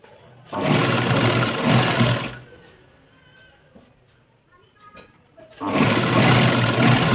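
Sewing machine stitching along a fabric strip border for a blouse-piece plate napkin, two loud sustained runs of whirring with a quiet pause between them where a few faint handling sounds are heard.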